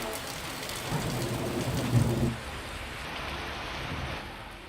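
Steady rain falls with a low rumble of thunder during a thunderstorm with gusty winds in Telangana, a continuous wash of sound that swells briefly then eases off, with no voices.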